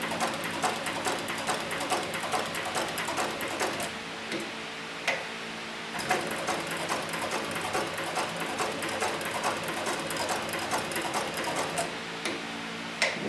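An inexpensive leather sewing machine for beginners stitches steadily, its rapid needle ticks running continuously and fairly close with a brief pause midway, with no voices.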